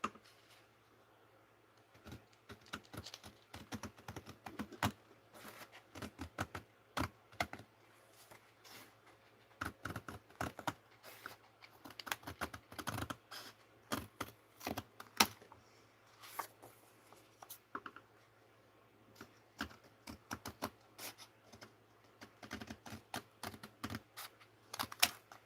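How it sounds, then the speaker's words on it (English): Paper scraps being cut by hand with large scissors, giving a long run of quick, crisp snips and rustles at close range, irregular in rhythm, with no talking. "Use my larger scissors."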